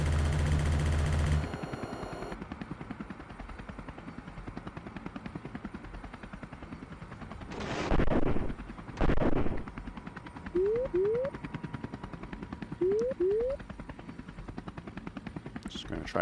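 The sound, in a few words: gunfire of a firefight in a helicopter video game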